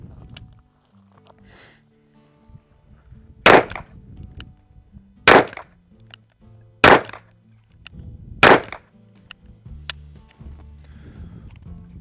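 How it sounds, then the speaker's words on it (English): Four sharp single-action pistol shots fired at a target, loud and spaced roughly one and a half seconds apart, followed by a fainter fifth crack, with metallic clinks and handling noise between them. "we're gonna do 4 shots, single action only, straight to center mass"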